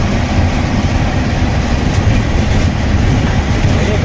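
A bus driving along a road near Bareilly, India, on the way to Meerut, heard as a steady, loud, unbroken rumble of engine and road noise with no talking.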